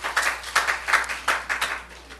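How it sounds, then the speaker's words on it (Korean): Church congregation clapping together at a Sunday service in Seoul, a few seconds of rhythmic, fairly soft group claps with a steady beat and some reverb. "우리 하나님께 박수 올려드려요."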